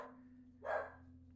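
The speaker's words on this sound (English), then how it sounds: "pardon my dog" A single dog barks once inside a room, short and fairly faint against a steady low electrical hum.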